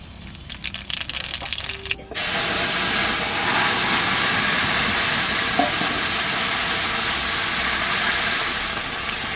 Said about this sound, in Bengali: সরষের তেল দিলাম, কালো জিরে ফোড়ন দিচ্ছি।